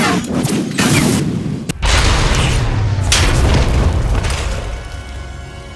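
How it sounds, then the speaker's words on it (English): A loud, booming video game explosion with a sharp crack partway through, followed by a sustained rumbling roar and debris noise that slowly fades. "We heard explosions."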